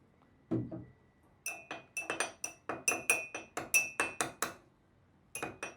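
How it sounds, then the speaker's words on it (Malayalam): Something stirs copper acetate and vitamin E in a glass, clinking sharply and repeatedly against the sides in quick bursts, close and alone, after a soft opening tap. "കുറച്ച് കോപ്പർ അസറ്റേറ്റും വൈറ്റമിൻ ഇയും കൂടി നമുക്കൊന്ന് മിക്സ് ചെയ്യാം."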